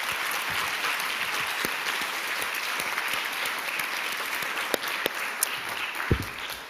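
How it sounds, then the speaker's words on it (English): A conference audience gives the organizers a huge round of applause, a sustained, even wash of many hands clapping at moderate loudness with a few sharper claps toward the end. "if you would join me in also giving them a huge round of applause"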